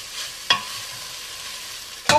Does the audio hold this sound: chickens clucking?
no